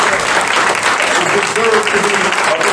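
A room full of people breaks into loud, dense applause for a group of parent mentors, continuous clapping that holds steady throughout, with voices mixed in beneath it.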